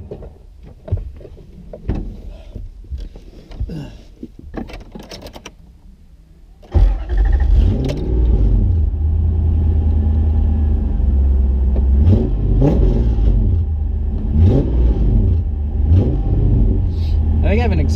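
Nissan S13 car with an exhaust leak pulls away after a quieter idling stretch, its engine droning loud and steady with repeated rising rev sweeps; a voice talks over the first part.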